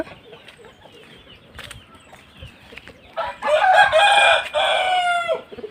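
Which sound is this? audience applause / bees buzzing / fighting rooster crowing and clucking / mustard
fighting rooster crowing and clucking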